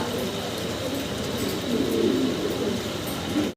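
Fancy pigeons cooing in a loft, a soft, steady chorus of low coos running throughout, moderately close, with no talking.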